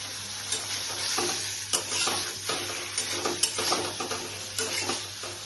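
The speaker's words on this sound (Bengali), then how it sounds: "এইভাবে পনিরগুলোকে আমি ফ্রাই করে নিচ্ছি" Paneer cubes frying in butter in a home kitchen pan, a soft steady sizzle with repeated spatula stirs and light scrapes against the pan at an irregular pace, close and quiet, with no voices.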